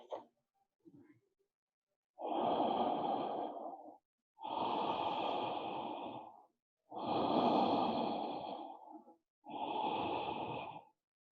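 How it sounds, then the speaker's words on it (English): Four slow, steady Ujjayi breaths from yoga pranayama each last about two seconds with a soft, hushed throat sound, close and quiet, with pauses of silence between them. "It's nice to use your Ujjayi breath here."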